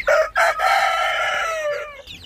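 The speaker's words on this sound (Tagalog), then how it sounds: "Yan si Rooster Pugi ang nagpaparami ng ating alaga" A rooster crows once, loud and close, opening with a couple of short clipped notes before a long drawn-out call that trails off, with no talk over it.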